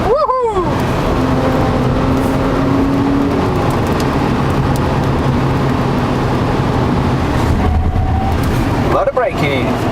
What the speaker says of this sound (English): There'll be hard acceleration now.